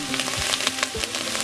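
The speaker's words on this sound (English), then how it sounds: "So I have everything frying up." Steady crackling sizzle of vegetables frying in a pan for chicken noodle soup with turmeric and ginger, with soft clinks and stirring sounds over a continuous hiss.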